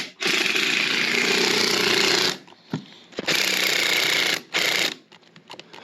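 A cordless power drill drives 3-inch screws into a mobile home floor patch, with two long, loud, steady whirring runs and then a brief burst near the end.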